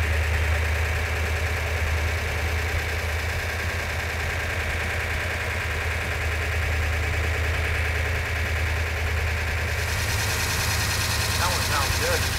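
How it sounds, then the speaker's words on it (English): A freshly assembled Charger car engine runs at a steady idle with a low, continuous rumble and mechanical clatter, while people talk over it. "The engine sounds every bit as good as it did when it was on the engine run stand"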